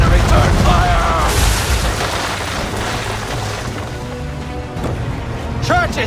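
Deep booming naval cannon fire in Assassin's Creed 3 during a ship battle, a few loud blasts rolling under shouted commands and battle noise, with voices calling out throughout.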